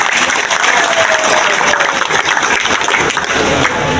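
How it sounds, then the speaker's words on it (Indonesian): Loud, dense crowd applause at a campaign event for gubernatorial and regent candidates in Bali, continuous clapping from many people close by that holds steady throughout. "Tepuk tangan."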